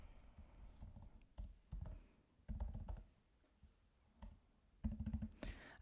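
Code being typed on a computer keyboard, quiet irregular clicks and short clusters of keystrokes, close but faint.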